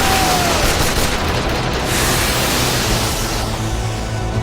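Sustained barrage of gunfire from the anime Attack on Titan, a dense, loud wall of noisy blasts and rumbling booms running continuously with no clear breaks and no talking.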